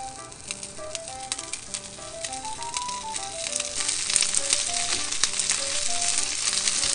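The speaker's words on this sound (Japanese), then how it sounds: "巻き終わりを下にして焼くよ" Pork belly and eggplant rolls sizzle in hot oil in a pan, placed seam side down, a steady close crackling fry that grows slightly louder, with a light melodic tune playing underneath.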